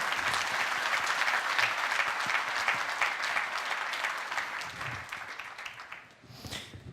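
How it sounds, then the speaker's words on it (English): Sustained applause from a conference audience, steady and full for several seconds, then thinning out toward the end. "So please, a round of applause for Malta and for its efforts in the sector."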